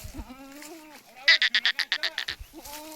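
A goat bleats nearby: a wavering, quavering cry, then a quick run of loud pulsed bleats, and another drawn-out call at the end.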